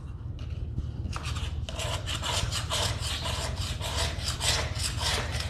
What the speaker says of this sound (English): Just want to scrape along the side, just take it all off.